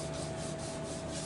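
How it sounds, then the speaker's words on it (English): Sandpaper at 80 grit rubs against a spinning walnut live edge crotch turning on a lathe, giving a continuous close abrasive rasp over a faint steady hum, with no one speaking. "Now we've just got to do the sanding"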